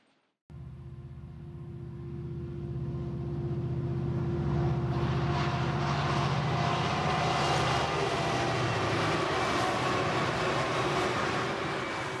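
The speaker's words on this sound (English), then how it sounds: "Leaving Las Vegas is this westbound auto carrier train." A westbound Union Pacific auto carrier train passing in open desert outside Las Vegas, a loud sustained rumble and drone that builds quickly and holds steady, heard alone.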